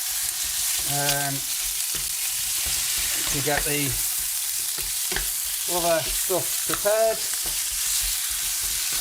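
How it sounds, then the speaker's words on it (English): Cut-up chicken pieces fry in a pan with a constant bright sizzle and occasional stirring, while a person talks intermittently over the cooking. "So in goes the chicken that I've just cut up. I'm going to fry that off."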